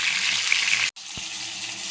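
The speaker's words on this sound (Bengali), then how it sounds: "তো চলো মাছটা ভাজা হোক কম আছে ভাজতে থাকবো" Fish frying in a pan of hot oil, a loud, close, bright crackling sizzle that drops out abruptly for a moment before resuming, no voices.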